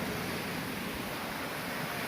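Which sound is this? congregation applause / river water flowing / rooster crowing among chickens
river water flowing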